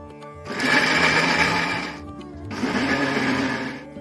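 A mixer grinder blending beetroot and watermelon juice roars loudly in two long bursts separated by a brief pause, blades whirring hard and close, without any talking.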